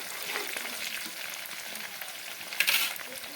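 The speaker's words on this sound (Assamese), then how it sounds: "পিঁয়াজটো অলপ ভাজি লওঁ" Onions sizzling in a pan for duck curry, a soft continuous crackle with a sharper burst of hiss near the end, fairly quiet.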